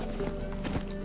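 Hooves of the horse Roach clopping on the ground in The Witcher 3, a quick run of close hoofbeats over a faint game ambience.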